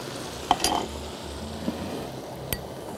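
Meat browning in a pan with tomato juice for a freek and beef shank casserole, a soft steady sizzle broken by a few sharp clinks of a spoon stirring against the pot.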